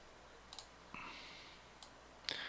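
A few sharp, quiet computer mouse clicks are spaced out in near silence as a software dialog box is opened for editing.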